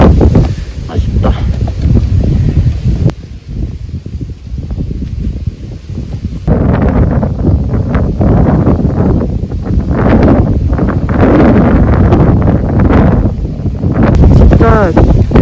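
A strong gale roars across an open mountain ridge in the Yeongnam Alps. Heavy, continuous wind buffets the microphone in loud, surging gusts, and voices are faintly audible beneath it.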